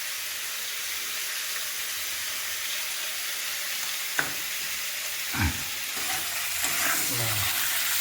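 Ground cumin, Kashmiri chili, turmeric and coriander mixed with water hit hot oil in a pan, a broad steady sizzle broken by a few sharp hissing bursts and stirring scrapes toward the end.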